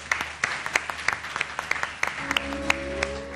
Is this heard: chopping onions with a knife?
no